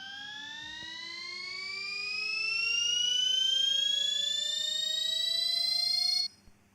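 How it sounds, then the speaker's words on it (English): An electric motor whines with a tonal pitch climbing steadily as its speed rises, clear and sustained for several seconds before cutting off abruptly. "You can see as the RPM is been increased, the noise of the motor is been increasing."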